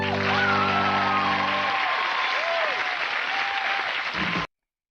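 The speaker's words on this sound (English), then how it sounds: "People actually cheer for that?" A studio audience claps and cheers in a dense, steady burst of applause that runs for about four seconds, with a tonal sweep overlaid, then cuts off abruptly into silence.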